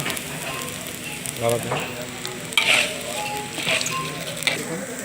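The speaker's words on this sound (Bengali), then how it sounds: "চাউলগুলো এখন বাদামি কালার করে হালকা একটু ভেজে নেব" Rice frying in a pan until light brown, a steady close sizzle with scraping stir strokes and a few sharp spoon clinks, as part of cooking egg biryani.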